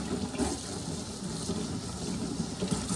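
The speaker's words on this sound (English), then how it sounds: "excuse the water, but you gotta wash this stuff pronto, or it'll dry and ruin the screen" Running water gushes steadily over a screen being washed, a continuous close splashing hiss with no talk.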